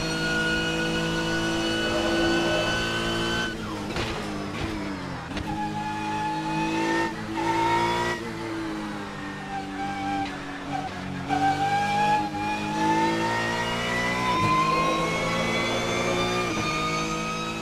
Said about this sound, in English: I don't love the V6 sounds of the Akuro